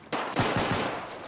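Incoming gunfire hits the player in Battlefield: a quick close burst of two or three sharp shots followed by a short reverberating tail, with no talking.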